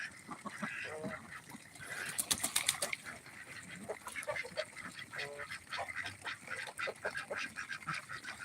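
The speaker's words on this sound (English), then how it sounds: "those 2 ducks are just talking to each other" Male ducks on a farm trade quacks back and forth, a run of short nasal calls, some in quick bursts, over outdoor background noise at moderate distance.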